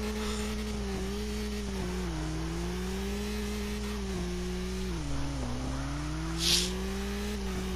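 A drifting car in the CarX Drift racing game hums with a steady engine tone that rises and dips, joined near the end by one brief sharp tire squeal.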